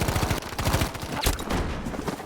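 Sustained FG42 automatic gunfire during a competitive video game match, a dense, loud burst of rapid shots running the full length without pause.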